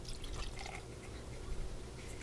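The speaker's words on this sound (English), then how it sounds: "I'm going to add 30 milliliters or 30 cc's of alcohol," Isopropyl alcohol is poured into an ultrasonic cleaner holding airbrush parts, a soft continuous trickling and dripping of liquid close by, quiet and steady, with no talking.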